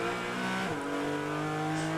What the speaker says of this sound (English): hard to beat that Ford Mustang 5-liter engine in Jeff Lindstrom's car